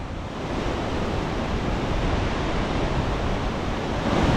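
Rushing water of the Krimml waterfall in Austria, swollen with meltwater, a loud, steady broadband roar that holds unbroken throughout.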